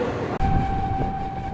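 The Parabat Express rumbles steadily as it pulls into Sreemangal railway station, a loud continuous rolling drone with a sustained tone and a brief dip in sound near the start.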